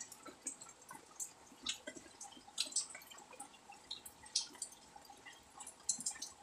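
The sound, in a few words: water slowly draining and dripping from a bucket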